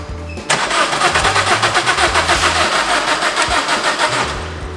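Diesel car engine cranking briefly and then catching, settling into a loud, close, rhythmic clattering idle with steady pulsing for several seconds.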